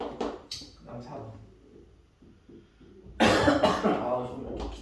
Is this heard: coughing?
yes